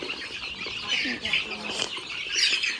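A heavy chicken clucking softly at close range amid faint farmyard background, with people talking over it.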